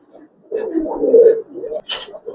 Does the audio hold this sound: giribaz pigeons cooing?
yes